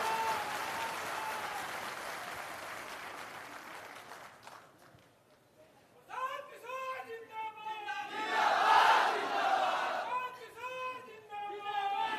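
Auditorium audience at a Jan Suraaj event welcoming a guest with applause and cheering that fades, then swells again with shouts and crowd noise while a voice speaks over a loudspeaker.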